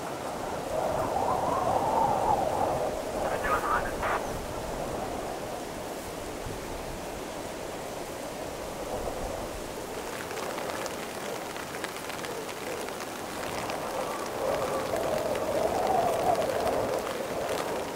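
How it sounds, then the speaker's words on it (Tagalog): Heavy rain pours down steadily outdoors in a constant dense hiss, with a few louder surges and no voices. "Ang lakas ng ulan, sobra."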